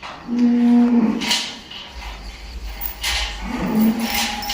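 A water buffalo moos twice, close by, each a deep drawn-out low call separated by a short pause.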